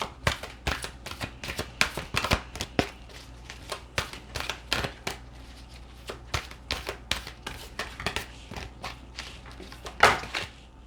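Tarot cards are shuffled and riffled in a long run of sharp, rapid flicks and slaps, close and fairly loud, with a brighter burst near the end.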